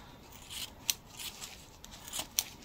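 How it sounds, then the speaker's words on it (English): Scissors snip through the fingers of a thin disposable plastic glove, with two crisp, close cuts standing out over soft rustling handling noise in a quiet room. "Yeah, let's cut the fingers off."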